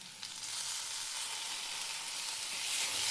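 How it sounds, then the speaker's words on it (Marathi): Tomatoes frying in hot oil with browned onion and ginger give a steady, close, even sizzle that swells slightly near the end, with no voices. "तेलामध्ये भाजायचे. 5 मिनिट भाजायचं आहे."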